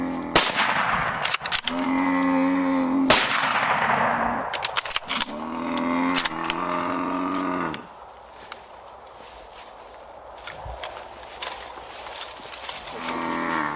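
Several sharp rifle reports crack out during a hunt in South Africa, spaced a second or two apart, mixed with loud, drawn-out bellowing from a large animal and footsteps.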